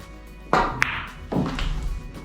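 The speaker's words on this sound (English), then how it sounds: "We're going to make a nice, easy, low left stroke." A pool cue strikes the cue ball with an easy, low left-spin stroke, giving a soft, close wooden tap followed by a quieter knock of balls meeting.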